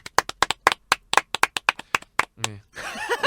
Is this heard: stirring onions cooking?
no